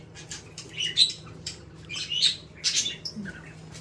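Several high, sharp rainbow lorikeet chirps and squawks in short bursts, fairly close, over a faint low hum.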